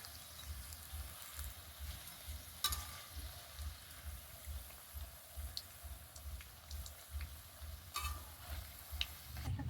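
Crisp snacks frying in oil and lifted out with a strainer, a soft continuous sizzle with faint bubbling, broken by a few sharp metallic scrapes and clinks, quiet and close with no talking.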